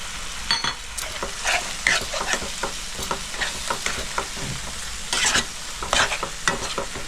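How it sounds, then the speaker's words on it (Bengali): Chicken gizzards with Kashmiri chili powder and a little water are stirred in a hot pan, giving constant close scraping and clattering over a steady frying sizzle, with no voices. "আর 1 চামচ কাশ্মীরি লঙ্কার গুঁড়ো দিয়ে ভালো করে মিক্স করে নিচ্ছি।"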